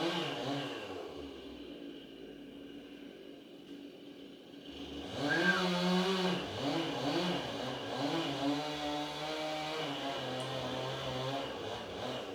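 A chainsaw cuts into a large tree being felled, with a wedge set in the trunk. The engine is faint at first, then revs up and runs in uneven surges at moderate distance.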